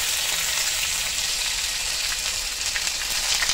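Garlic hitting hot oil while a bitter gourd thokku is cooked gives a steady, dense crackling sizzle that holds evenly throughout, with no talking.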